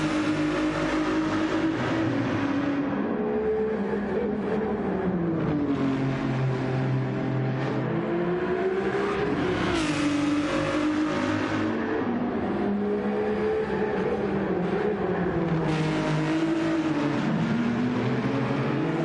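Ferrari race car engines roar in a WEC racing video game at Watkins Glen, a loud near engine rising and falling in pitch through shifts and corners, with a sharp surge near the end; no speech.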